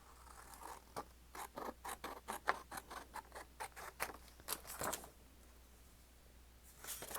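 Scissors cutting paper for a journal, a quick run of crisp snipping strokes close by, then a pause and a few more snips at the end.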